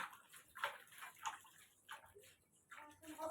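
Dishes are washed by hand with water in a home kitchen, giving soft, intermittent splashes and trickles in short bursts, faint and close by.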